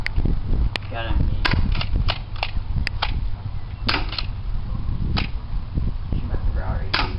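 Airsoft shotgun firing BBs outdoors near a house, a series of about a dozen sharp, close snapping shots at irregular intervals over steady background noise.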